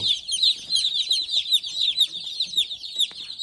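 A crowd of baby chicks in a brooder box chirps nonstop, high-pitched peeps overlapping densely and close by, with faint scratching movement on wood shavings underneath.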